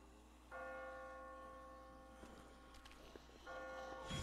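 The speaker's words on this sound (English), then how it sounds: "I just got spooked by those bells" Church bells ring in The Walking Dead video game, a sustained tolling tone that hangs for about two seconds, gives way to faint shuffling steps, then sounds again near the end.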